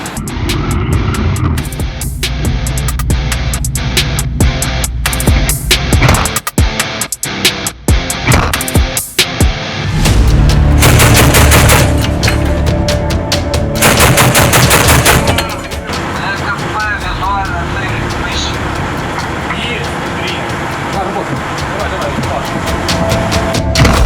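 Heavy guns on a river patrol boat on the Dnipro fire in rapid bursts, loud sharp cracks and booms repeating close by, followed by a rumbling engine drone once the firing stops.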